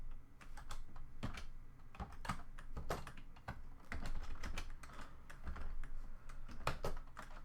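Someone types on a computer keyboard in a quiet room, a continuous run of soft, irregular key clicks with occasional heavier keystrokes, close and faint, with no speech.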